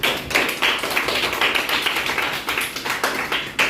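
A small group of students claps together in a steady, brisk burst of applause lasting a few seconds in a classroom, close and fairly loud.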